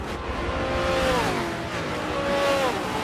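A race car in Forza 7 at Circuit de Catalunya droning down the front stretch, a steady engine note with pitch sweeping up and down under light crowd and track noise.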